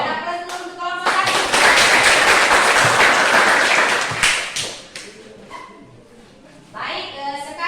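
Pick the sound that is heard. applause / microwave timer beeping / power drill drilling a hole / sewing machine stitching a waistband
applause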